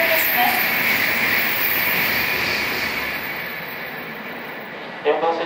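A JR through-service commuter train bound for Shinjuku rumbles and hisses steadily as it pulls into Nishiya Station, Japan, its roar easing over several seconds, then a brief brake squeal near the end.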